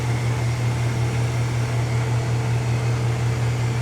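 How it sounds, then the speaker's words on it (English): ILIFE X5 robotic vacuum cleaner running at maximum suction: a loud, constant motor whine with a strong low hum, steady and close for the whole stretch, nothing else heard. "So as you can hear, it got louder, and that activates the maximum suction"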